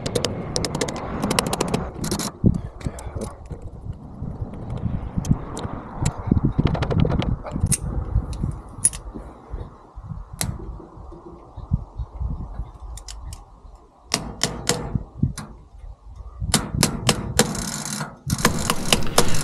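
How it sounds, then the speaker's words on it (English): A Caterpillar D2 5J engine is turned over by hand, giving repeated metallic clicks and ratcheting clatters in bursts, close by, with a quieter stretch midway. "So I just need to turn the motor over so I can open up the points to clean them."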